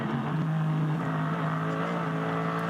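Hyundai Motorsport N TCR race car engine on track at the Nürburgring during 24h qualifiers, a steady loud droning engine note held at near-constant pitch throughout with no voices.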